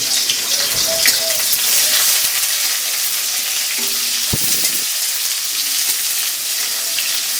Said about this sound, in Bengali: অল্প পরিমাণ আমি কাঁচা পেঁয়াজ ভেজে নেব